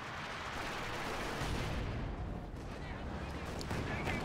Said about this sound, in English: Rocket coming in from the Katyusha